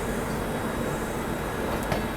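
Shatabdi and Rajdhani express trains pull out of Kanpur Central side by side at sunrise, a steady, heavy rail rumble with a brief metallic squeal near the end and no talking.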